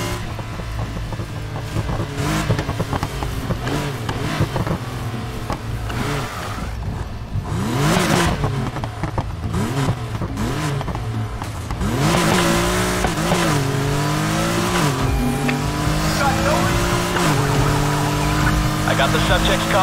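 Cars racing in a video game, engines revving up and down with pitch sweeps and tires squealing, loud and continuous.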